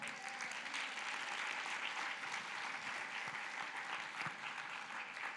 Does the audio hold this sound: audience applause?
yes